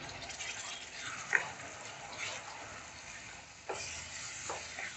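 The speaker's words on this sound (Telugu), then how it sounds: "ఇవన్నీ వేసేసి బాగా ఫ్రై చేసుకోండి." Mushroom masala with tomato paste is stirred and fried in oil in a pan, giving a faint, continuous sizzle with a few soft scraping stirs, no talk.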